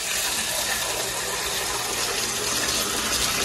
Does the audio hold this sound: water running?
yes